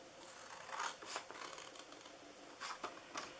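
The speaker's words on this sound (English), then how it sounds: "We're going to cut off this end here." Scissors snip through paper card while making a Christmas snow bear treat box, a few quiet crisp cuts with light rustling of the card between them, close by.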